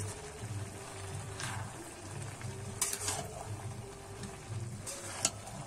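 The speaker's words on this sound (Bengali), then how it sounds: "এবারে আমি আবারও নেড়ে নেব, ভালো করে কিন্তু মিশিয়ে নেব।" Sweet gourd curry being stirred and mixed in a pan, a soft sizzling bed with intermittent scraping and clinking of the spoon against the pan.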